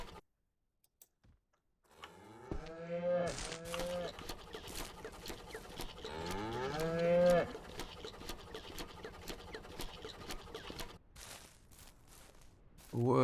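Cows low twice in the ranch-farming video game Ranch Simulator, each a drawn-out, rising and falling moo, set among scattered clicks and small game noises against quiet surroundings.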